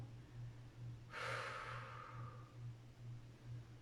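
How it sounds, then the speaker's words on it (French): A person takes one long, slow breath out through the nose during a leg and calf stretch, soft and close, over a quiet low pulsing hum. "des grandes respirations."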